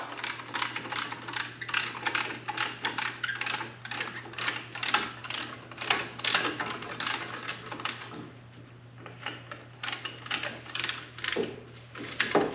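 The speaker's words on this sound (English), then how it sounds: "It's like a ratchet. Ratchets right out." Ratcheting brake caliper compression tool on a Mazda 6 front brake, a fast, steady run of close, crisp clicks against a low background hum, slowing briefly near the middle before clicking on.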